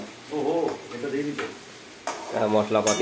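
Spices go into hot oil in a pan and fry with a steady sizzle while being stirred, close by, and several people talk and hum softly over it during a Dol Purnima cooking get-together at home.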